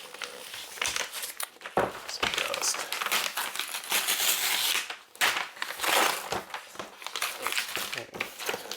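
Thick, expensive-feeling wrapping paper crinkles and crumples loudly and continuously up close as a framed, deconstructed iPhone 4S is unwrapped, in irregular rustling bursts with brief pauses.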